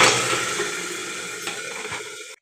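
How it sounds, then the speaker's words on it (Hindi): Garlic tadka sizzling in hot oil for a bathua dish, a close, steady hiss and crackle that slowly eases, with small clinks from stirring, before cutting off abruptly. "इस प्रकार से तड़का लगा दिया है।"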